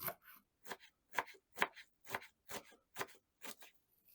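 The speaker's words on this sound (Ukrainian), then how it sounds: "Петрушку теж треба нарізати міленько" Parsley being finely chopped with a knife on a board, about nine crisp, evenly spaced cuts, close and quiet with short silences between strokes.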